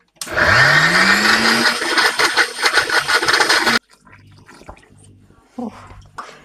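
A kitchen blender whirs loudly, mixing pancake batter made with flour and added water, its motor note rising as it spins up, running for several seconds and then cutting off, followed by faint clinks and brief noises.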